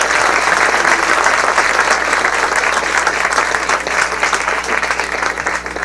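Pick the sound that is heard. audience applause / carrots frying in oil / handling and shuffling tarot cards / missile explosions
audience applause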